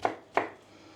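Two crisp knife chops on a cutting board while garlic is sliced for a bean dish, close and distinct, about a third of a second apart, then quiet.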